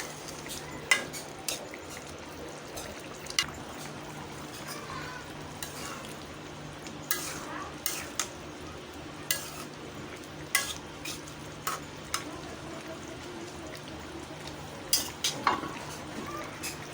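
Snake gourd, jackfruit seeds and dried fish curry frying and being stirred in a pan, with a steady low sizzle and regular metallic scrapes and clinks of the spatula against the pot.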